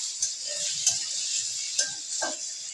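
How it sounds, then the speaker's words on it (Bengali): Paneer fries in a pan with a soft, even sizzling hiss, broken by a few light scrapes and clicks of stirring. "দেখো এই পাশে পনির ভাজা হচ্ছে"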